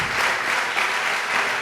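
A church congregation breaks into loud, sustained applause, dense clapping filling the room steadily with no voices on top.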